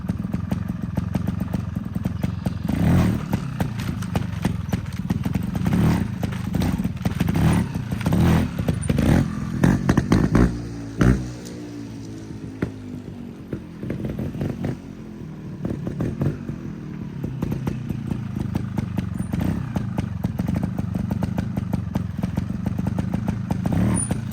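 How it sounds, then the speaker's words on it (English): A motorcycle engine idles, revs and rattles in a dense, close clatter, with a rising and falling rev in the middle as the clutch is popped, then settles back into a rough idle. "start my bike, and I'm just going to move my front tire over this imaginary rock with a little bit of clutch pop"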